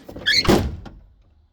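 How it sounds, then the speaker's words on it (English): A battered old car's door is swung closed once more, landing as a single close, solid thunk with a brief rattle that fades out over about a second, with no talking. "that door never closes really on the first try."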